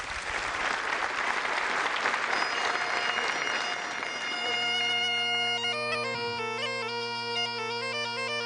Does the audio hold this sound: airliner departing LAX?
no